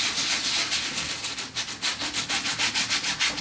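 Quick back-and-forth scrubbing on a waterproof nylon bag with cleaner, a close rubbing swish that grows into a fast, even rhythm, with no talking.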